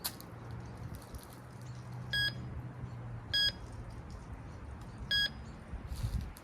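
A RICOMAX metal detector gives three short, evenly spaced electronic beeps over a nickel coin, over a quiet background hum.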